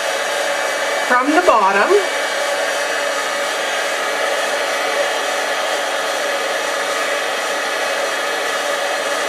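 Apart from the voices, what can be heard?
heat tool melting embossing powder for faux wax seal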